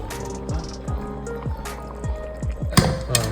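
Water for Ambur biryani boils in a pot, repeated bubbling pops and gurgles with a liquid, dripping quality, close and fairly quiet with no talk.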